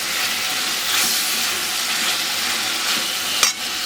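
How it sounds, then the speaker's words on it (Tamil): Tomatoes sautéing in oil with rock salt in a pan while making tomato pongal with raw rice, a steady close sizzle with light stirring and one brief scrape near the end, no voices. "அப்புறம் தக்காளி நல்லா வதக்கட்டும்"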